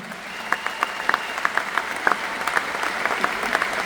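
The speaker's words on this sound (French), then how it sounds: "S'il vous plaît, applaudissez pour vous-même." Audience applause at a conference in Cameroon, a steady dense patter of many hands clapping close by, with a few sharper claps standing out.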